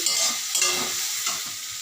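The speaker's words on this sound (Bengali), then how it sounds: "তাই এখানে সয়াবিনটা আমি ভাজতে বসিয়েছি" Soybean chunks frying in a pan make a short, close, continuous hissing sizzle with faint stirring scrapes.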